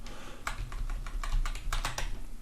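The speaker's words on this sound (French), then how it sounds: "je vais coller, CTRL V pour coller le lien de la fenêtre modale" Keys tapped on a computer keyboard during web page editing, a close run of irregular clicks bunching into quick clusters as a paste shortcut is pressed, with no talk.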